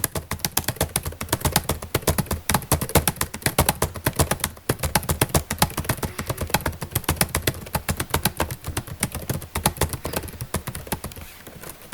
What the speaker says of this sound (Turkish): klavyeye sert set basacağım